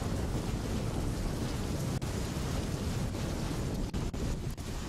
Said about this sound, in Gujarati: ભાવનગરના પાલીતાણામાં ધોધમાર વરસાદ પડ્યો